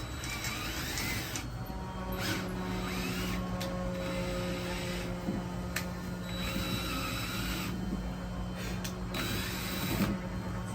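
A screw strips out as it is driven into wood trim with a power driver, a sustained whirring grind with clicking, ratchet-like slipping, continuous for several seconds and fairly close, with no talking.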